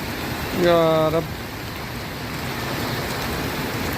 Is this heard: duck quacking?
no